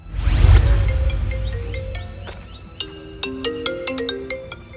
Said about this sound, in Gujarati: ઓ તારી આજુનો ફોન આવ્યો